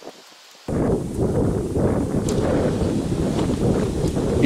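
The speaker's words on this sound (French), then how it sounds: "il y a un vent absolument abominable ce matin" Strong morning wind gusting through the Dourbie valley, a loud, steady rush with buffeting noise that kicks in abruptly after a brief quiet moment and stays constant throughout.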